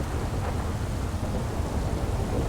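Night thunderstorm in GTA 5, a low rolling rumble of thunder under steady heavy rain hissing on surfaces, loud and continuous with no voices.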